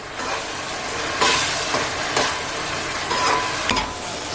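Onions and green chillies frying in oil for a tamarind fish curry, a constant loud sizzle with occasional scraping stirs and a sharp clink near the end, no talking.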